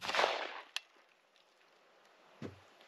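A single sharp, close report from a 9mm pistol firing a CCI shotshell for pest control, followed by a quick metallic click and a soft thump a couple of seconds later in otherwise quiet surroundings.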